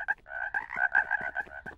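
A cartoon frog croaks in a quick series of short, nasal, buzzy bursts, about a dozen in under two seconds, close and clear with no other sound.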